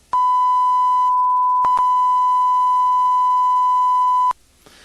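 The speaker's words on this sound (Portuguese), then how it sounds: "Distorção, como o próprio nome diz, é adicionar uma distorção a um arquivo de áudio." Steady electronic beep tone at about one kilohertz, run through a distortion effect in Sony Sound Forge, sounding loud and constant for over four seconds with a brief break partway through, then cutting off abruptly.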